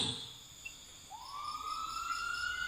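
An ambulance siren at night, faint and distant, sweeps upward once and holds a rising wail over a backdrop of high, thin insect chirping.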